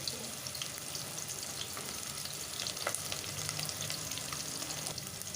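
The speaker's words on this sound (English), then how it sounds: "Let the onion brown a little bit." Chopped onion sizzles and browns in a pan, a soft, even crackle with faint scattered pops and light stirring, continuous and fairly quiet.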